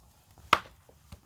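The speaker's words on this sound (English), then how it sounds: "But let me show you the chopping." Chopping with a Cold Steel SRK knife: one sharp, loud, close chopping strike, followed about half a second later by a much fainter knock, with quiet in between and no talking.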